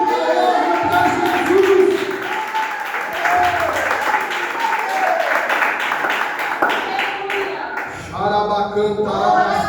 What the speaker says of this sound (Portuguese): As palmas é para Jesus.